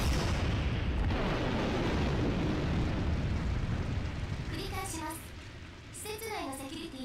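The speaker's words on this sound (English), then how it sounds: "an explosion occurred." A loud, sustained explosion rumbles through a scientific research facility in the visual novel game Root Double, a dense roar lasting several seconds before fading under tonal game sounds.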